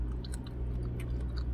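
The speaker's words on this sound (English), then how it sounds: "Let me try one of these. This is some carrots and vinegar." Crunchy chewing of pickled carrots in vinegar, close and moist, a short burst of bites and mastication.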